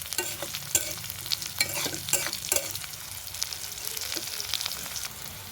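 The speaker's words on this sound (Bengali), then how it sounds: "কালো জিরা দিয়ে ভাজা ভাজা করে নেব।" Garlic, green chili and black cumin fry in hot oil, giving a close crackling sizzle with several sharp stirring scrapes early on that settle into a softer fry.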